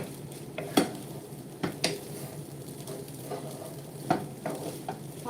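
Bread fries in a pan with a low sizzle, while a utensil stirs and scrapes, giving a few sharp metallic knocks against the cookware.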